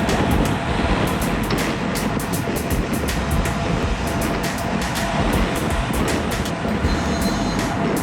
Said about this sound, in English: The train's going through.